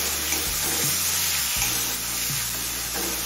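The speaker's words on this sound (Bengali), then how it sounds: "এবার আদার কাঁচা গন্ধ চলে যাওয়া পর্যন্ত কষিয়ে নেব" Ginger paste fries in a pan for a Bengali potol jhal, with a loud, steady sizzle and hiss running throughout and a few low scraping strokes.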